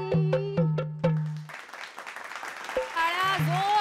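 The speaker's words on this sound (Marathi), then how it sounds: "टाळ्या जोरदार." Audience applause after a dance performance breaks out midway as a burst of clapping. Tonal music stabs come before and after it, and voices are mixed in.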